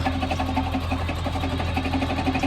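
A small tractor works through the male rows of a seed-maize field with a rapid, steady mechanical engine chatter, close and continuous, with no voices.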